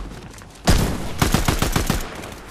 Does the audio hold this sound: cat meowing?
no